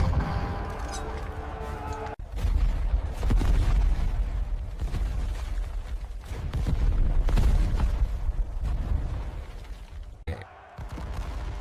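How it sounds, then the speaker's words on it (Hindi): Artillery cannons fire during a Maratha siege of the Delhi fort, with repeated booming blasts and rumbling bursts that swell and fade across a dense, loud battle soundscape. There are brief drops in between. "इब्राहिम खान गार्दी अपना तोपखाना चलाओ।"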